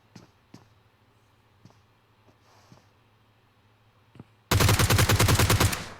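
Rapid automatic gunfire from the PUBG Mobile battle royale game, a loud dense burst of shots arriving in the last second and a half after a few faint isolated shots over a low hum.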